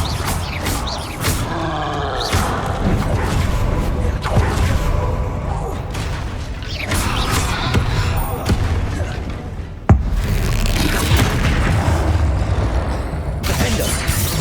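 A Confringo fire spell is cast in the Hogwarts Legacy video game during combat. Blasts boom and crackle amid dense, continuous battle noise, with one sharp impact standing out near the end.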